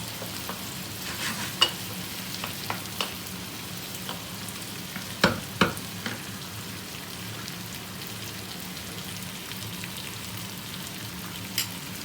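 Chicken, browned onions and chopped green chilies fry in a pot while being stirred, a soft continuous sizzle with scattered spoon knocks against the pot, near and moderately quiet, no talking.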